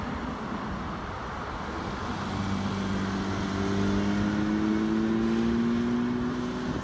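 A Porsche 992 GT3 engine drones steadily from inside the car while driving, its pitch climbing gradually as it accelerates, loud and continuous with road noise underneath and no talk.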